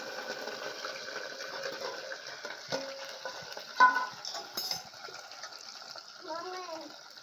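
Cluster beans (guar) in a pan on a stove, sizzling and being stirred with occasional utensil scrapes, quiet and close, with a voice speaking over parts of it.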